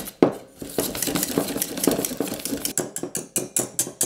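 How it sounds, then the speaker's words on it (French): Egg being whisked with icing sugar in a bowl, with quick scraping and clinking strokes against the bowl in an uneven rhythm, close and fairly loud, with no talk. "on va mélanger l'œuf avec le sucre glace"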